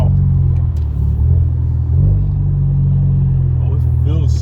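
Ford Focus RS with an AWE Track Edition exhaust rumbling loudly and steadily at close range, with a slight swell in revs midway, while a person speaks briefly over the engine.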